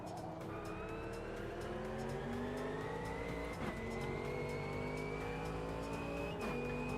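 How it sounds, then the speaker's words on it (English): A Porsche in a racing video game: a continuous engine drone whose pitch climbs steadily through gear changes, with brief dips as it shifts, loud and unbroken with no talking. "That Porsche is nice though. It handles really well."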